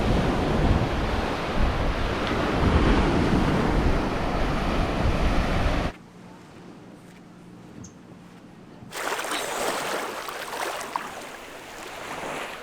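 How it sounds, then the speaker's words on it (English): Strong 20 to 30 mph wind roars across a Key West beach with ocean surf crashing steadily, easing briefly in the middle before the gusts and waves build loud again; no talking. "And this is 20 to 30 miles an hour winds today."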